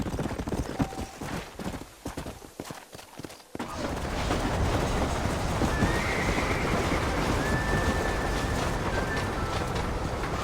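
Horses whinny and hooves clip-clop in a Western video game set around New Orleans, with a loud neigh and galloping building into a continuous, dense rumble of hooves and wagon noise.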